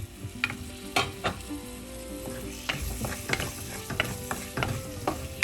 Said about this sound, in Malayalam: എല്ലാം കൂടെ നല്ലതായിട്ട് ഒന്ന് വഴറ്റുക